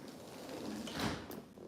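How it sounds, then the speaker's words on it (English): A door is pushed shut indoors, giving a single soft, muffled thud with a faint rustle before it, quiet and close. "I'm gonna close this door"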